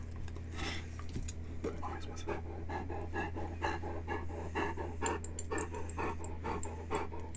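A large dog sitting in someone's lap pants close by in quick, steady, rhythmic breaths with occasional snorts, over a constant low hum.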